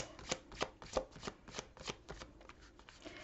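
Oracle cards are shuffled by hand for a nine-card tarot-style spread, a quick run of a dozen rhythmic riffling flaps, near and fairly quiet, with no voices.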